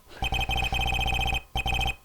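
Cell phone ringing inside the Phoenix Wright courtroom video game, a bright electronic ringtone of rapid repeated trills in two bursts, the second after a brief gap, loud and alone with no talk.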